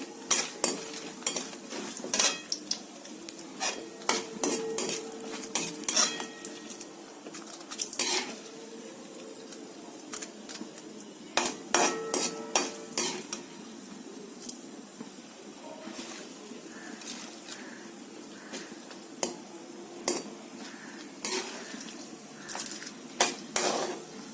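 Dried red chillies fry in a pan for a yam and spinach curry, a faint sizzle under repeated clinks and scrapes of a spoon against metal cookware.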